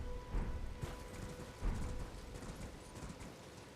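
A horse's hooves clip-clopping in the game Elden Ring, rhythmic strikes at a trot over soft background game ambience, with no one speaking.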